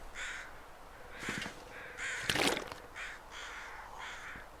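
Crows cawing in The Long Dark video game, gathered around dead wolves in a snowy wilderness; a series of harsh caws in loose repeated bursts, fairly close, with no talk.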